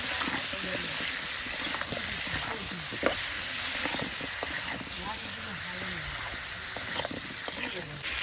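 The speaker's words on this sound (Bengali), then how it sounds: "হলুদ গুঁড়ো ভালো করে আমি আলুগুলো লাল লাল করে ভেজে নিই" Potatoes frying in a pan with salt and turmeric powder, a steady broad sizzle with stirring scrapes throughout, close and fairly loud, with a voice talking over it.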